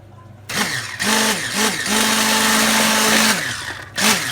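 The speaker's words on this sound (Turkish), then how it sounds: "iyice beyaz bir kıvam, köpük bir kıvam alana kadar bunu çırpıyoruz" Eggs and sugar whisked with an electric mixer, a loud motor whine that starts and stops in short bursts before running steadily for a couple of seconds, then cutting out and restarting.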